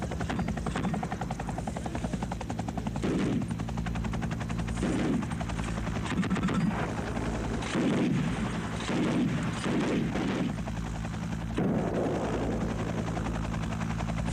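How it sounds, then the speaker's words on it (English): An Mi-8 helicopter flies with a loud, continuous rotor drone and whine, while bursts of gunfire and heavy blasts thud repeatedly beneath it, dense and close with no talk. "the helicopter strikes the easiest target available, a nearby village"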